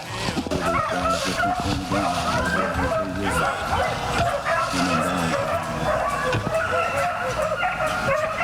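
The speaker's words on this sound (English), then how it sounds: "Listening to dogs under that car." Dogs on an Alabama rabbit hunt bark and yip excitedly beneath a car, with a cluster of barks early on, a steady background rumble, and people talking through it.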